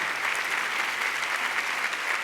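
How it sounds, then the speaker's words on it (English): A crowd at a keynote talk claps steadily for a former student, a dense, even burst of applause filling the room. "The clapping is for him"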